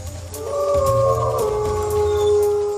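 A bear-dog, a lion-sized amphicyonid predator, gives a long, wavering tonal howl that rises and bends in pitch, loud and sustained, with a low rumble beneath it.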